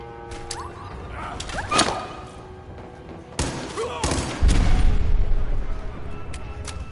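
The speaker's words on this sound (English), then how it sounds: "Yeah, that's a big explosion." Fallout 4 combat: sharp gunshot cracks and thuds in bursts, followed by a big explosion whose heavy low boom swells near the end, with some game-voice sounds mixed in.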